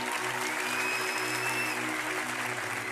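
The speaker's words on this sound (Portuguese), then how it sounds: "Uma salva de palmas para esse cara aí." A church congregation applauds a member, steady dense clapping filling the room at an even level throughout, with a low sustained musical hum underneath.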